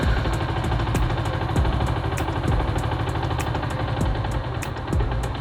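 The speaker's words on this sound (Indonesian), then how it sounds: "Jadi ketika motornya RPM-nya rendah dan kayak mau mati," A Yamaha Jupiter MX motorcycle engine idles at very low RPM as if about to stall, a steady close putter with an even, slow pulse and no talk.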